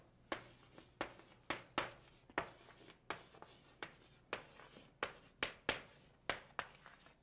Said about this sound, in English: So I'm just going to write it out.